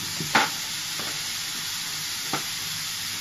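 Onions fry with turmeric and salt in a pan, a steady hiss of sizzling with a couple of sharp stirring scrapes.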